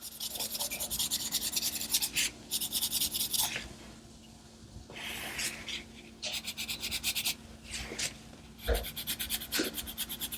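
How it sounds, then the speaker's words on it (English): Coloring pencil rubs back and forth over paper in a coloring book, in close, scratchy bursts of quick strokes separated by short pauses. "Just rub a little bit of color over it and it looks good."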